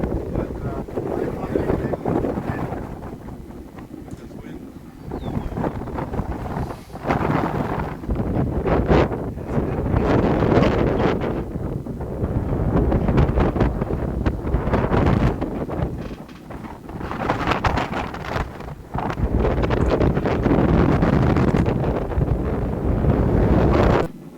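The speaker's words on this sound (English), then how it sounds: "A little windy up there." Strong, gusty wind roars continuously across the microphone on an exposed platform in Newfoundland, buffeting it in waves of rumble and rush throughout.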